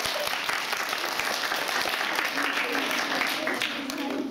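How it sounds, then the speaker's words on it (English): An audience at a preschool show at a British school in Antwerp claps for the young children, steady dense applause throughout with some voices underneath. "So can you give them a big clap?"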